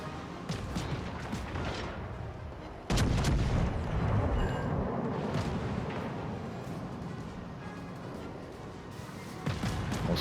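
Naval guns firing in the World of Warships Legends video game, booming artillery blasts with rumbling tails over a dense battle soundscape, one especially heavy salvo standing out near the middle.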